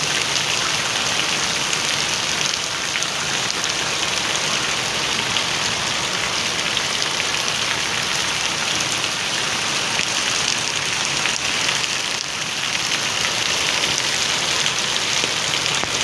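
Sudden heavy unseasonal rain pours down in Bhachau, Kutch, a dense, steady hiss of drops drumming on surfaces that holds loud and even throughout, with no voices.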